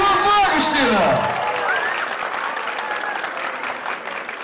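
Audience at a school last-bell graduation ceremony in Azerbaijan claps steadily, a dense crowd applause continuing throughout with some voices and cheering mixed in at the start.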